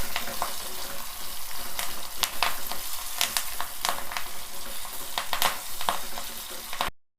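Onions, curry leaves and tamarind leaves fry in a pan with a constant close sizzle, broken by sharp scraping strokes as the spoon stirs, then cut off abruptly.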